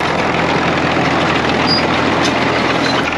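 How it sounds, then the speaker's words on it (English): Diesel engine of a Caterpillar D2/D4 crawler tractor runs steadily, a loud, close, continuous rumbling drone with no pauses. "that awesome cackling diesel engine"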